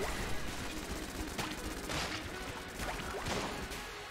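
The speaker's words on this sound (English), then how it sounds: "The snare bullets really help with those guys a lot." Rapid bursts of gunfire from snare bullets in the game Enter the Gungeon, crackling close and fairly loud for a few seconds, with no talking.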